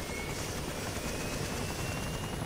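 A helicopter flies in the survival game DayZ, its steady rotor thrum and engine whine droning continuously and fairly loud, with no talking.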